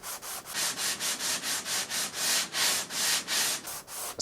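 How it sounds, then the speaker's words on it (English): Sanding a guitar neck joint with a 16-inch leveling beam on a set-neck rosewood Telecaster, steady rhythmic back-and-forth rasping strokes at about three per second, close and clear, no talking. "I'm going to take my 16-inch crimson leveling beam, same thing, and I'm just going to sand that joint"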